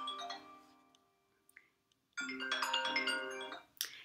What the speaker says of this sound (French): le petit coup de téléphone qui se met, ouf, ça sonne